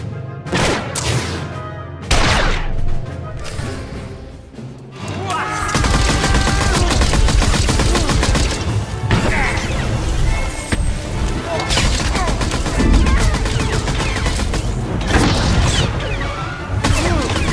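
Gunfire rattles through a Star Wars: The Old Republic battle as a dense, loud, continuous barrage of blasts after a few opening shots, with voices shouting orders over the din.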